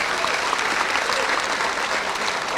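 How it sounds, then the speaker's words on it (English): An audience at a CAPE and CSEC results release event gives students a round of applause, a loud, dense burst of sustained clapping from a crowd that fills the whole moment. "Let's give our students another round of applause."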